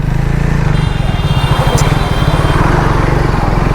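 Triumph Speed T4 motorcycle engine pulling steadily under acceleration, a loud continuous rumble with a pulsing low-end beat heard close up over wind noise.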